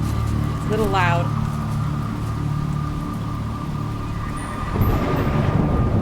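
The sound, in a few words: rain in video game Jenny LeClue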